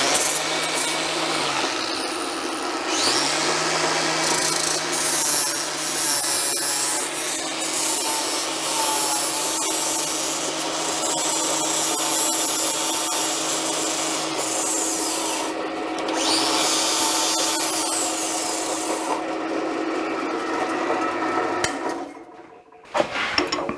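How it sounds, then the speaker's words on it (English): An angle grinder with a flap disc rounds over a spinning bolt head on a 1951 Chevy truck bed build, a loud continuous abrasive whir with the motor pitch dipping and recovering, cutting out near the end. "I'm just going to use the grinder with the flap disc while the drill is turning, just round over that bolt head a little bit"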